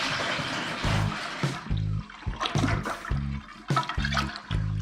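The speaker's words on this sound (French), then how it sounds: "on ouvre ça et on le vide dans notre cuve de fermentation primaire" Red grape juice concentrate glugs out of an opened bag into a primary fermentation vessel while red wine is being made, a steady, close liquid pour with rhythmic gurgling surges and no talking.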